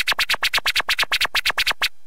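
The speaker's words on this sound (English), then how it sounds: "the normal scratch sound like this" Default keyboard scratch effect in Virtual DJ software: eleven quick, evenly spaced swishy scratch bursts in a steady rhythm, close and fairly loud, with no talking.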